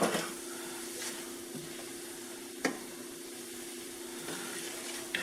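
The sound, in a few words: onions sizzling in pan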